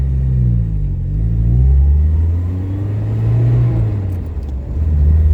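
A cold-engined 1987 Alfa Romeo Spider drives at the bottom of a hill and runs up through its gears. The engine rumbles loud and close, its pitch rising and falling with each shift.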